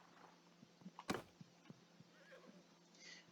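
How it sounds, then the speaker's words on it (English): A horse in Mount & Blade II: Bannerlord neighs in one sharp, loud whinny, with faint hoof clops and soft game ambience around it. "I'm assuming that's the horse."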